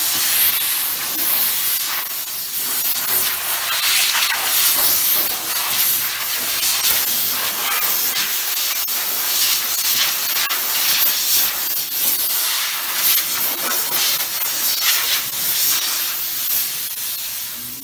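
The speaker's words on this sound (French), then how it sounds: "Je viens de faire ma première passe, vapeur humide" Wet steam hisses steadily from a steam cleaner sprayed over a car's hood, a loud, continuous broadband rush with slight surges as the nozzle sweeps across the bodywork.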